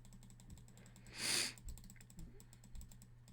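Computer keyboard keys click and patter quietly in an irregular typing rhythm, with one brief hissing burst midway and a steady low hum underneath.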